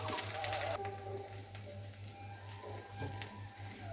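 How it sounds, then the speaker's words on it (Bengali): Soaked, squeezed soybean chunks frying in hot oil in a home kitchen, a steady close sizzle with a louder burst at the start and occasional faint clinks, with no talking. "সয়াবিনগুলো ভাজা হয়ে গেছে"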